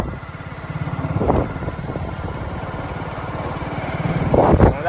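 A Hero Glamour motorcycle engine thrums steadily while riding on a rough road, its regular close-up pulsing rising and falling with throttle, with brief louder bursts near the start and end.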